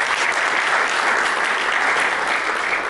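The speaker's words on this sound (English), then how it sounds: "Let's give him a big round of applause." Dense, steady applause fills the room from the audience at a Bitcoin conference keynote in London, loud and continuous without any voices on top.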